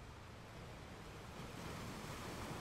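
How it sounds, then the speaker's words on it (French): Ocean waves break on a shore in a soft, continuous wash of surf that swells slightly toward the end, distant and even, with no voices. "entendant les vagues qui déferlent"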